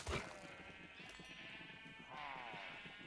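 Sheep bleating in the Minecraft video game, two drawn-out wavering bleats that start about a second apart and overlap, loud and close, with a short thump at the very start.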